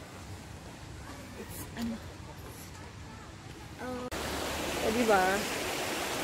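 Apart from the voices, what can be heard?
clean river stream flowing in a park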